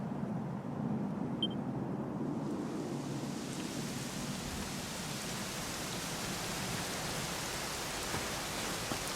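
Steady, dense rainfall in the video game Dragon Quest XI S hisses evenly throughout, a constant wash of drops with no voices.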